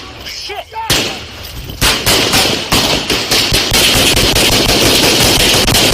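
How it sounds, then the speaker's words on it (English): A rapid series of sharp gunshot cracks rings out in woodland during a deadly shooting incident with police. The bursts are loud and dense, repeating irregularly over continuous noise, and a brief voice is heard before the first burst. "Got gunshots in the woods, guys."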